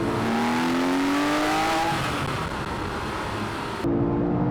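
Porsche 997.2 911 GT3 RS engine, 450 horsepower, revving hard and accelerating through the gears, a loud rising whine that drops at a shift and climbs again.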